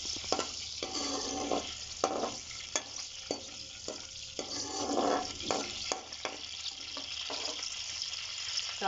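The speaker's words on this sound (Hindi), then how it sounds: "इसको थोड़ा सा हम फ्राई करेंगे ऑयल के अंदर ताकि अच्छी सी खुशबू आने लगे" Fennel seeds frying in hot oil, a steady soft sizzle with occasional stirring scrapes and clinks, close and continuous without talk.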